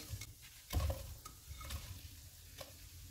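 Spices with red chilli powder being roasted in a pan, a quiet low sizzle broken by a few scraping stirs and soft knocks of a utensil, near but faint.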